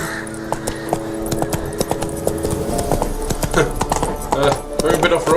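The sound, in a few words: Roach the horse trotting, from the video game The Witcher 3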